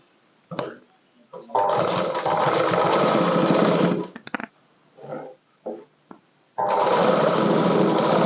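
A sewing machine stitches along the edge of a party-wear frock in two long, steady runs of whirring motor noise, with several short bursts in between.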